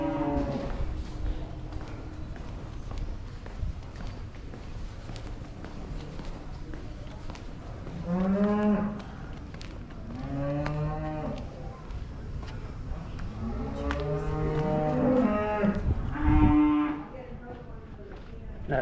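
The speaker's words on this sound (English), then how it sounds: "I hear a cow mooing." A cow moos repeatedly from somewhere off to one side, several long low calls spread through the stretch, with people talking and footsteps around it.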